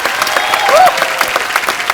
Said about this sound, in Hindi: यार जोरदार तालियां डॉक्टर साहब के लिए प्लीज।